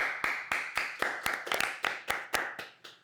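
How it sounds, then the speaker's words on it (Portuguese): Roughly a dozen sharp, evenly spaced hand claps from a small group at a church youth gathering, fairly quiet and without talk. "Palmas!"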